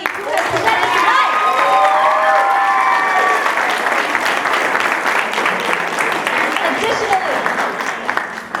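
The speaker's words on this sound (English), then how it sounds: "can we get a round of applause for everybody who has presented tonight?" Loud audience applause at a poetry night for the presenting poets, many hands clapping steadily alongside cheers and a few whoops, with some voices shouting over it before it gently tapers.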